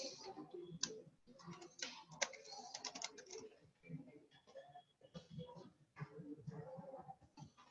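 Typing on a computer keyboard while entering code in a developer console, producing irregular bursts of clicky keystrokes with short pauses, fairly quiet and close, with no talking over it.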